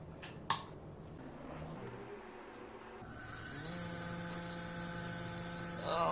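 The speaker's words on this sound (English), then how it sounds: "Let's test this CNC motor" A small 58-watt DC motor on a CNC setup spins up after a click, settling into a steady high-pitched whine with a constant electrical hum that swells slightly louder toward the end.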